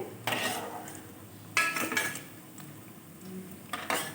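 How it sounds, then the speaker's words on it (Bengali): Bread-ball gulab jamun, fried to a deep red, lifted from a pan of hot oil with a metal utensil: a few short clinks and scrapes in three separate clusters, close and moderately loud, with no talking. "পাউরুটির বলগুলো এবার তুলে নিচ্ছি"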